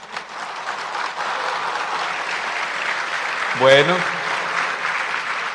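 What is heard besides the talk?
audience applause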